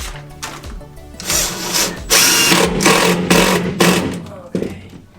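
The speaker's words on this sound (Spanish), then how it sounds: "Estaba atornillando la primera plancha, el primer tornillo." A power drill driving the first screw into a floor panel during a camper van build, with repeated loud bursts of whirring and grinding of wood, starting and stopping, heard up close.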